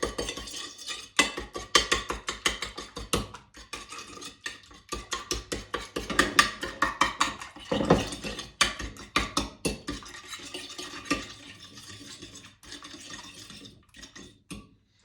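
Egg mixture for sweet bread being whisked in a bowl, a fast, steady run of clinking utensil strikes against the bowl that continues for the whole stretch, close and fairly loud.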